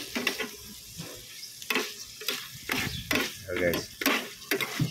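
Garlic and onion frying in oil in a pan for adobo, with bursts of sizzling and scraping stirs and a brief spoken aside at the start.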